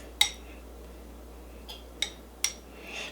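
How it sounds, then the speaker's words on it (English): A spoon mixing mustard into a pot of chili, giving a few sharp metallic clinks against the pot, spaced apart and fairly faint, with quiet between them. "Got to mix that mustard in"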